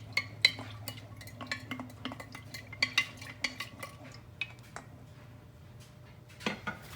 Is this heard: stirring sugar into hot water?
yes